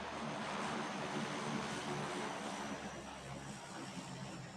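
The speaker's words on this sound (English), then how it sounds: "Oh no, I can't hear because of the plane." Propeller airplane flying nearby in a video game, a steady, loud drone that fills the whole stretch with little change.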